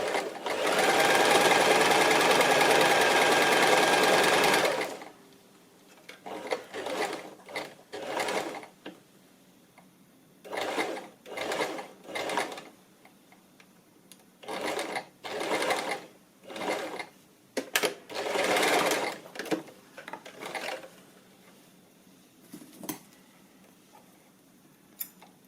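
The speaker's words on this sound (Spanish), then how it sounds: "Y ya tenemos cosida la parte de la máquina, ya no tenemos que utilizarla más de momento" Sewing machine stitching fabric for a children's scarf, one long steady whirring run up front followed by many short start-stop bursts of stitching, close and clear, with no talk.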